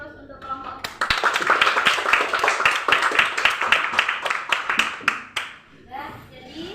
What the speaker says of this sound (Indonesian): Silakan kasih aplaus untuk kelompok 4.